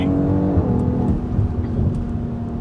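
A 2020 BMW X3 M Competition pulls hard in second gear, its engine roaring loud and steady from inside the cabin with a dense, continuous drone and slight rise in pitch, no speech over it.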